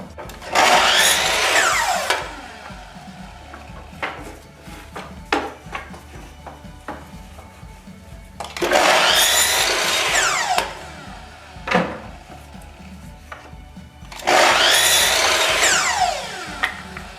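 A hand-held saw cuts through leftover live edge wood in three loud, rough bursts of two to three seconds each, separated by quieter pauses with small knocks and handling sounds.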